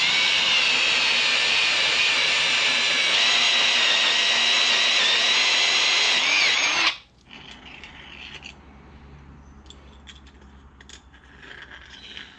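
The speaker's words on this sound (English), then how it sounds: "now we've got to go through and drill the hole on the top hats so that they slide over it" A power drill bores holes through coilover sleeve top hats for a cheap turbo Civic, giving a loud, steady high whine for about seven seconds before cutting off, followed by quieter workshop handling noise.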